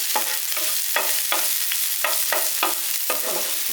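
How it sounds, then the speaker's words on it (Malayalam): A spoon stirs green and dried chillies in a frying pan, giving about eight rhythmic scraping strokes over a soft sizzle, close and clear with no talking. "ഇതും ഒന്ന് നമുക്കൊന്ന് ഇളക്കി കൊടുക്കുക"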